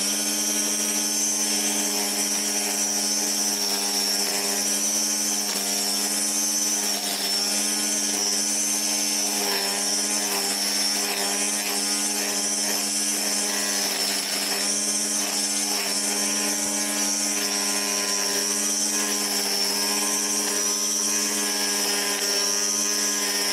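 An RSW Badger 40V cordless string trimmer whines steadily at high speed as it cuts, a constant buzzing drone close by that holds for the whole stretch with no talk.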